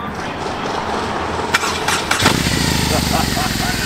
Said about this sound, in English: Once your dash kicks over, then you can hit your starter button.